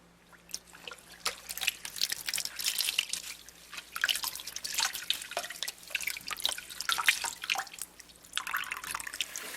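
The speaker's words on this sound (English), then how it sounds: "I'm going to squeeze it until I get most of the water out." Water drips and trickles quietly from a soaked knit scarf being wrung out by hand, faint irregular splashes and dribbles close by, with no talking.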